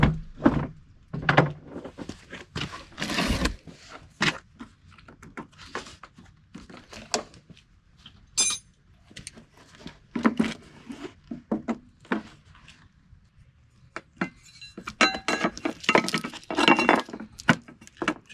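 Screw clips being pried off an old Honda Element headlight assembly: sharp plastic clicks, snaps and clinks in irregular close bursts with quiet gaps between.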